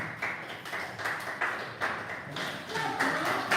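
An audience claps for a contestant at the final stage of a science and mathematics olympiad, a steady, moderately loud patter of many hands that swells in bursts, with faint voices mixed in.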